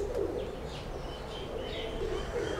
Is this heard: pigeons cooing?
yes